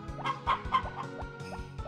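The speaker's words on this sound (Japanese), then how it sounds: "このニワトリちゃんが、リリアさんの元に帰る" Chickens in the Harvest Moon farming game cluck in a quick run of short, clipped calls over a steady, looping game background, close and clear with no talk.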